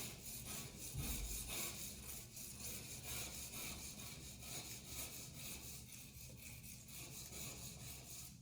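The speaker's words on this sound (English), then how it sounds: "I'm just like lightly rubbing the razor across the surface." A razor blade is drawn lightly across shower glass to scrape off hard water stains, producing a faint, rhythmic rasping with repeated back-and-forth strokes and no voices.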